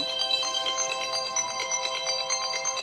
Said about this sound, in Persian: موسیقی نیست، تلفن من بود، خاموش نکرده بودم